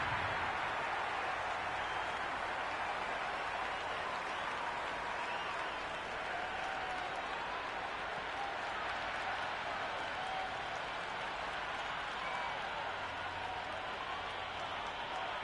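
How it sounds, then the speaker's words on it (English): A stadium crowd at a simulated India versus South Africa T20 match in the Cricket 26 game gives off a steady, distant roar of cheering and applause that holds evenly throughout. "It's evident and ever so audible that the crowd is at near bursting point at today's play."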